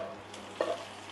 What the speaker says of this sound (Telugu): తాలింపు అందులో వేసేసుకుందాం.